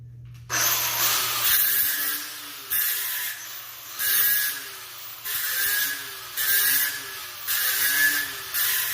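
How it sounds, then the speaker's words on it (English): An angle grinder takes welding spatter off a steel rod during scrap-metal fabrication, running in about seven short, loud bursts with brief pauses between them and a steady low hum underneath. "Grind off some of them little welding boogers there."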